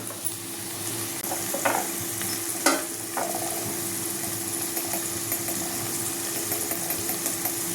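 Soaked poha with turmeric stirred in a frying pan: a steady low sizzle with a few scraping spatula strokes, close and fairly quiet.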